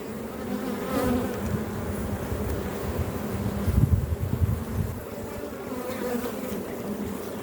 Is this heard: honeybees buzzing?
yes